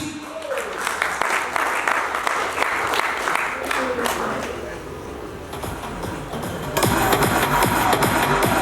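Audience applause at a company launching ceremony runs steadily beneath a voice on a sound system, then swells louder and denser near the end, with some shuffling and movement in the room.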